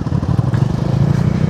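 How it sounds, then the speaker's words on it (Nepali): Royal Enfield Bullet motorcycle engine running with a loud, close, rhythmic low-pitched thump at a steady idle, without speech. "स्टार्ट हुँदैछ बाइक मस्तले"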